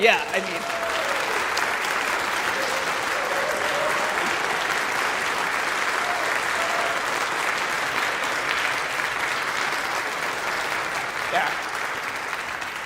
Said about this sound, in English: one more big round of applause for Dr. Jan Kraybill